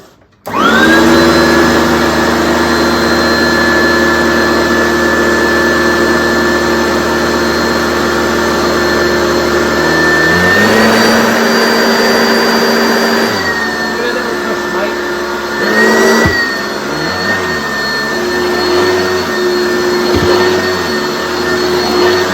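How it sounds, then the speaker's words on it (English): An Oreck XL5 upright vacuum cleaner runs loud and steady with a strong high whine, its pitch shifting partway through as the motor note changes, with no talk over it. "Vacuums have like quite a whine to them"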